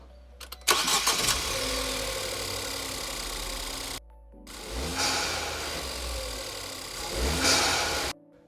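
Ford Fiesta ST fitted with a Ramair crossover pipe starts up with a sharp crank and catch, settles into a steady idle, cuts off, then restarts with a rising rev, close and loud with no talk.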